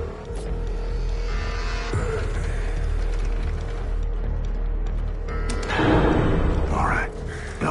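A belt mechanism and platform elevator in Wolfenstein 2 grind and rattle with a steady mechanical hum and ratcheting clanks, building to a louder surge of machinery near the end, with voices talking over it.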